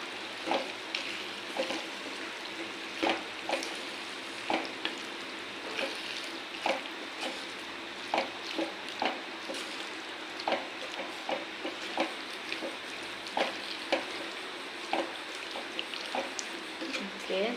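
Ivy gourd thokku cooking in a pan after half a tumbler of water is added, a steady low sizzle and bubbling broken by frequent light clicks of a spoon stirring, with someone talking over it.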